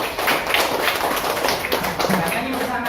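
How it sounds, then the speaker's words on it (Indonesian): A class of fifth-grade schoolchildren applauds in a classroom, a dense, continuous patter of many hands clapping at close range throughout, with a few voices mixed in. "Tepuk tangan untuk kelas 5."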